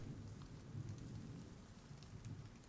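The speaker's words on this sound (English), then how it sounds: "you can hear the rain falling outside." Steady rain falls outside a building during a thunderstorm, a constant low, soft wash with faint scattered droplet ticks and rumbling underneath, heard alone and fairly quiet throughout.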